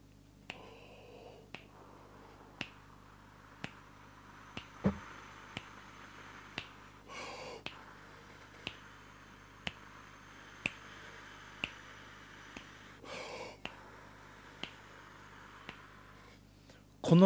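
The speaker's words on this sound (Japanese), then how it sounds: "メトロノームをかけて、" Metronome ticking steadily at roughly one click per second for a breath-only wind practice exercise, sharp regular clicks over a faint background hum, with a couple of brief breathy noises between them.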